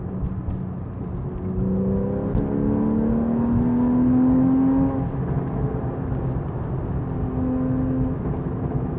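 A 2013 Porsche 911 Carrera S (991.1) engine gives a deep rumble with a rising then falling drone, steady and close, settling into a low burbling idle after the revs drop.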